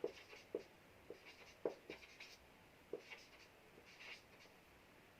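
Chalk or marker strokes on a classroom board while Coulomb's law is written out during a physics lesson, heard as a series of short, sharp, scratchy taps spaced irregularly, faint and alone with no voice over them.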